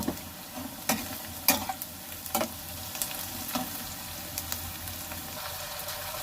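Ginger garlic paste being stirred into sizzling onions for biryani, a steady close fry with scattered clicks of the spoon against the pan.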